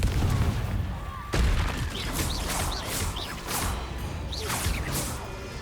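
Confringo spell blasts in Hogwarts Legacy: a sharp explosive burst followed by a rapid series of whooshing, crackling fiery impacts, fairly close and moderately loud.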